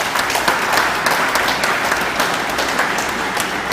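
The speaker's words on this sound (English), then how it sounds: "Give yourself a resounding round of applause." A large audience at a Guyana Police Force anniversary award ceremony bursts into sustained, loud applause, a dense even roar of clapping hands filling the hall throughout.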